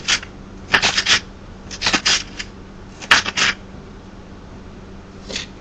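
Knife chopping vegetable scraps into slivers on a board for chicken and vegetable soup, several short clustered bursts of cutting strokes with pauses between, close and fairly loud.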